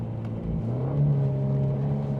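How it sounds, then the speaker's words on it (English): A 2024 Ford Mustang EcoBoost turbocharged engine and exhaust in sport mode gives a steady, low rumbling drone with a slight rise in pitch partway through, close and continuous with no talking. "You do hear some of that rumble from the exhaust."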